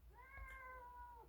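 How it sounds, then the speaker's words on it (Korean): A pet cat gives a single clear, drawn-out meow indoors, fairly faint and close, over a low background hum. "기운이 좋다고 우리 집 고양이도 그러네요."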